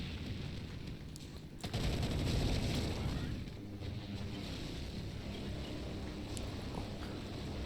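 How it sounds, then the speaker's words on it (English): Plasma gun firing in the Brutal Half-Life mod for Half-Life, a loud sustained burst of rapid discharges around two seconds in, followed by continuous crackling debris and rumble. "Plasma gun."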